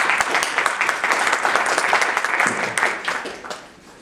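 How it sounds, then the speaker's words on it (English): An audience applauds a panelist with dense, steady clapping for a few seconds that fades toward the end. "let's give Emmanuel a round of applause"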